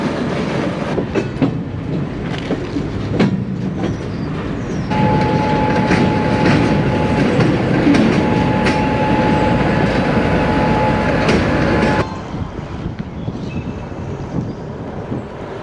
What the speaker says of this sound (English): This train was moving through here and now it's just stopped. And now it's going back the other way.